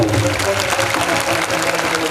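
A temple audience at a kalasharohan function for the Shree Ramling Choudeshwari Devi temple claps, producing a loud, dense burst of applause that lasts about two seconds.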